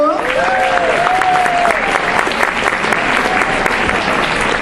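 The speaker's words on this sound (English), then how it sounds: "clap your hands, make some noise for PSA" An audience at a Yalda Night celebration at UMBC claps and cheers loudly and continuously, a dense wash of hands with a brief voice at the start.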